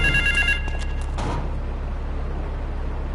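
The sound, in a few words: telephone ringing in a video game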